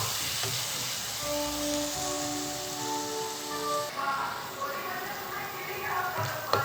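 Ground tomato paste frying in oil in a pan for a vegetable gravy gives a steady, close sizzling hiss throughout, with faint tonal sounds in the background.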